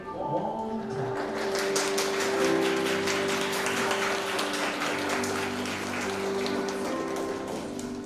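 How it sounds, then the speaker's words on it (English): A church congregation claps warmly to welcome the priest at a praise and worship service, a dense, even patter of many hands sustained throughout with a faint organ-like tone beneath. "Let us welcome our Father with a warm clap."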